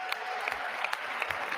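A crowd at an inauguration event cheers and applauds steadily, a dense wash of clapping and voices that continues throughout without a break.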